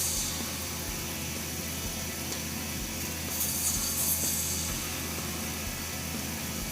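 Woodturning tool taking very light finishing cuts on a hybrid resin shaving brush handle spinning on a lathe, a steady soft scraping rub over the constant motor hum, close and fairly quiet, with no voices.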